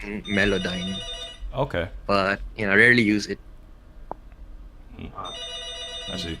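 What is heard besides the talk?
phone ringing in the background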